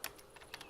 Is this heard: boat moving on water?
no